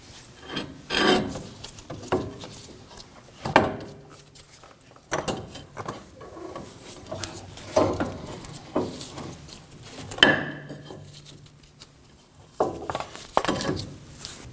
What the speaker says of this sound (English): Now I'm going to use a small pry bar to pry in on the gap between the axle and the transfer case.